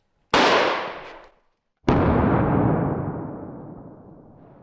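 Two loud shotgun blasts in a video game, the second following about a second and a half later, each with a sharp crack and a long booming tail.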